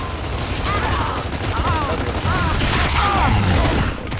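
Gunfire in a team deathmatch video game on a sandbar map, a dense continuous barrage of rapid shots with mechanical clatter filling the whole stretch, loud and close.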